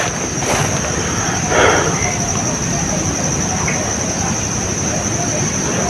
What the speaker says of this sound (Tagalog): Ang lakas ng apoy.